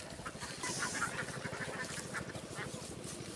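Ducks quack in rapid repeated bursts by a village riverbank, moderately near and fairly faint, with a few voices in the background.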